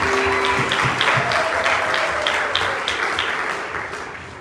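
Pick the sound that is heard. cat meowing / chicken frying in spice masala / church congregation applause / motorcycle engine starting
church congregation applause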